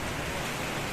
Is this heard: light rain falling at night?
yes